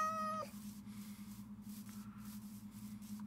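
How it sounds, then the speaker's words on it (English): A cat in the Minecraft video game gives one short, clear meow at the start, followed by quiet game ambience with a low steady hum. "Oh, hey, there's a cat."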